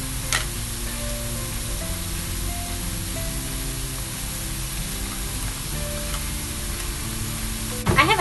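Onions frying in oil with ginger garlic paste stirred in for palak paneer, giving a steady, even sizzle that holds throughout, with a brief sharper clatter near the end and no voices.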